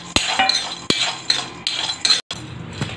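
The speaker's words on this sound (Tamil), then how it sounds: "வேர்க்கடலையை இருந்தாலும் ஒரு வாட்டி நான் வறுத்துக்கிறேன்" Peanuts being dry-roasted and stirred in a pan for tamarind rice, heard as repeated clinking and scraping of a spoon against metal with rattling nuts, close and fairly loud, with no voices.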